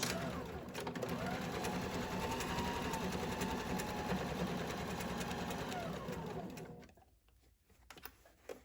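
A sewing machine runs steadily stitching a seam on a hobo tote bag, a close continuous whirring hum for several seconds before stopping, followed by a few quiet handling noises.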